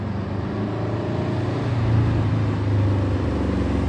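A Roadster replica kit car's engine drones steadily and grows slightly louder as it approaches and rounds a bend, a continuous rumble from moderate distance with no talking.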